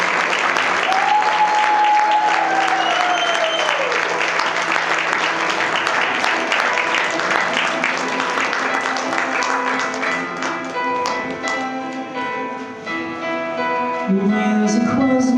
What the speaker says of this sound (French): On peut applaudir 2 fois plus ces enfants parce que c'est pas évident pour eux.